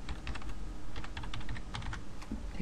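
Keys tapped on a computer keyboard while an email address and password are entered on a login page, a quick, uneven run of close, crisp clicks over light room noise.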